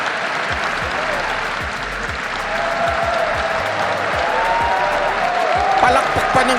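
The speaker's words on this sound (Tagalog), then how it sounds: "Palakpak pa ng palakpak to mga anong to" Sustained applause from an audience during a State of the Nation Address, dense and steady throughout, with a speaking voice audible under the clapping.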